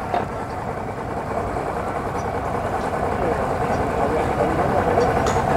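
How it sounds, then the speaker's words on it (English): Offshore power boats idling at a marina, a steady low engine rumble that grows slightly louder, with people talking over it. "Offshore power boats."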